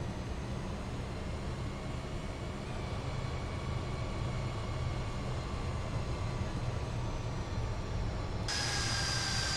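Steady drone of a Fokker F28 jet airliner in a flight simulator, a continuous broadband engine roar with faint tonal whine, holding level throughout and brightening with a higher-pitched hiss near the end.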